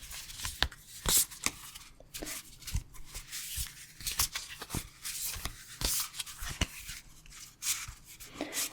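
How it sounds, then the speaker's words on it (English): Oracle cards being shuffled close up, a series of crisp riffling snaps and soft slides in an uneven rhythm, with no talking. "Just shuffling the deck again."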